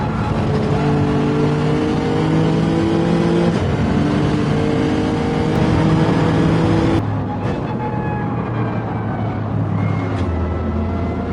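Race cars in Gran Turismo 7 during a Nations Cup final, engines roaring loudly and continuously close by, with pitch shifts as gears change and a car pulling out to pass a BMW.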